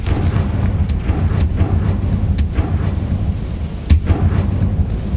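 A Confringo blasting curse erupts in Hogwarts Legacy: a loud, continuous booming rumble with several sharp cracks, including a heavy blast near the end, and no talk over it.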